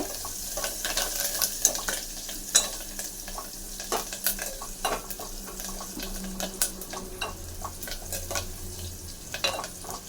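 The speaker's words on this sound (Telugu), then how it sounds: "ఈ ఉల్లిగడ్డలు అనేది గోల్డెన్ ఫ్రైలో వస్తే సరిపోతుంది" Onions frying in hot oil toward golden brown for a tomato charu, with a steady sizzle and repeated scraping stirs from a spatula, close up and without talk.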